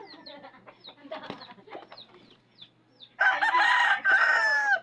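A rooster crows loudly in two long bursts near the end, after quieter clucking and chirping from fowl nearby.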